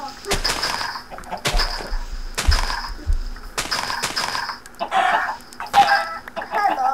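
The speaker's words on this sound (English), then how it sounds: "I gotta kill all these chickens." Minecraft chickens clucking in repeated short bursts, one after another, fairly close and loud over a steady game background.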